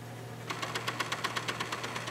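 Faint, quick mechanical whirring and clicking from a PlayStation 3 disc drive's auto eject mechanism, starting after a quiet moment and pulsing rhythmically for about a second and a half.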